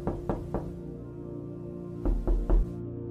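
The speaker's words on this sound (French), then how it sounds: "Je crois que ça cogne à votre porte." Two sets of three firm knocks on a door, the first set lighter and the second louder and heavier, with a quiet pause between them and a low held musical tone underneath.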